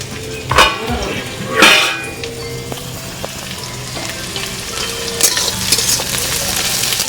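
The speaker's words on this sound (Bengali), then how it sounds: "পেঁয়াজ রসুনটা একটু ভালো করে ভেজে নিই।" Onion and garlic fry with spices and peas in a pan for ghugni, giving a steady, close sizzle with two loud scraping strokes of stirring early on and lighter clinks of a utensil against the pan later.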